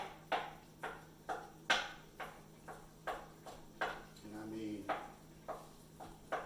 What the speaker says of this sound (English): So, got a knife here. Let's go dicing up this liver.